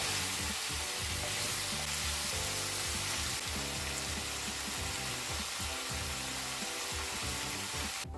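Salt and spices stirred into chicken and vegetables frying in a pan, with a steady, dense sizzle throughout and soft scraping and clinking of the stirring utensil, close and fairly loud with no talking.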